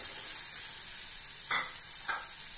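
Green peas tipped into a hot pan for spicy pea sundal, a soft steady hiss broken by two short scraping stirs near the end, quiet and without speech.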